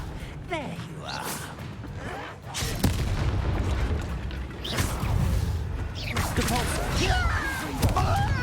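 A Confringo fire curse explosion in the video game Hogwarts Legacy, a whooshing spell cast followed by booming blasts and crackling bursts, loud and sustained amid chaotic combat effects.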